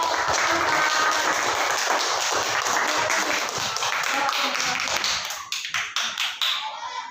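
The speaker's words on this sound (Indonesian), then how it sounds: "tepuk tangan dulu untuk kelompok 4" A classroom full of people claps enthusiastically for a student group, a dense burst of applause that thins out into a few scattered claps at the end.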